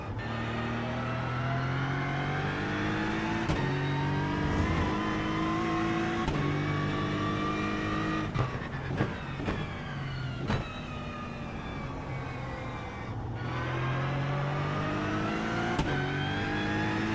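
A turbocharged race car engine in iRacing drones and revs steadily, its pitch rising and falling through gear changes with sharp shift clicks, loud and continuous throughout.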